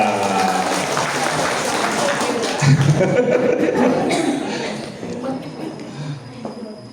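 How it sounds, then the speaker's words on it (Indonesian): Audience applause from a crowd at a motivational talk for Islamic boarding school teachers in Banyuwangi, a steady rolling clapping that gradually fades, with a voice speaking over it. "Aplaus untuk kita semuanya."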